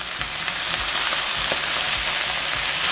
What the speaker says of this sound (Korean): 해물을 넣고 나서 이제 정종을 넣을 텐데요. 해물에 직접 넣겠습니다.